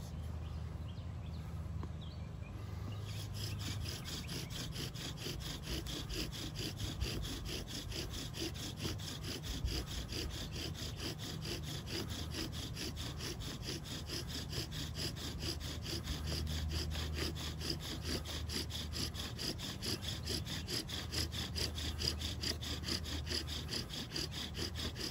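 A bow drill with a yucca cordage bowstring spins on wood, making a continuous rhythmic rasping and scraping as the bow strokes back and forth, close and fairly quiet.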